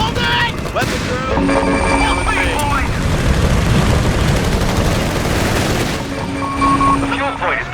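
Company of Heroes 3 battle gunfire: rapid machine-gun bursts and scattered shots crackle densely throughout, with soldiers' voices calling out over the shooting.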